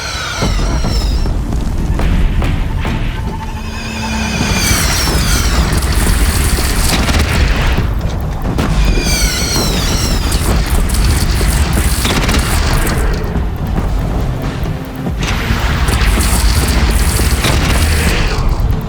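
Heavy cannon blasts in the action game Horizon Zero Dawn, several loud booming shots in quick succession amid dense battle noise and musical swells, continuous and intense throughout.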